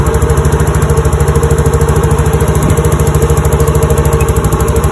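A Yamaha Mio J motorcycle with a fault that makes it rev up on its own idles steadily at close range, a loud, even engine thrum with a constant throb and no voices.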